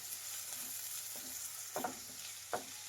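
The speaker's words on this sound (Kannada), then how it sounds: "ಈರುಳ್ಳಿನ ಫ್ರೈ ಮಾಡಿ ಎಣ್ಣೆಯಲ್ಲಿ." Chopped onions fry in hot oil with a steady, quiet sizzle, broken by a few sharp scrapes of a spoon stirring the pan, heard close and without talk.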